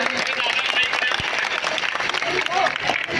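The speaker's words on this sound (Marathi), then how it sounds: "म्हणून या सर्व सद्भक्तांसाठी एकदा जोरात टाळ्या वाजवायच्या आहेत।" A crowd claps loudly and continuously for pilgrims at a Datta temple gathering in Bhusawal. The clapping is dense and sustained, with voices mixed in underneath.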